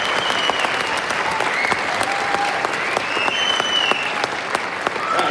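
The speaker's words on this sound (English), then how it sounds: "let's give a round of applause for these percussionists helping us out" A school audience claps steadily for the percussionists at a middle school winter band concert, dense sustained applause with faint voices and whoops rising above it.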